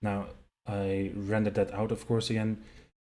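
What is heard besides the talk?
No distinct noise like a dog, phone or traffic.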